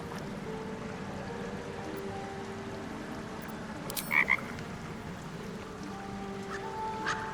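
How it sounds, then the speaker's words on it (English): In a video game, a frog croaks as if in pain, a few sharp erratic croaks bursting out midway over a quiet ambient backdrop with a soft watery murmur. "It ribbits erratically as if in pain. It shies away, croaking a warning"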